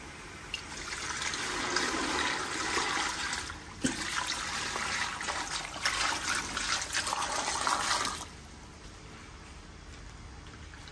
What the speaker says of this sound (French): Mettre de l'eau dedans.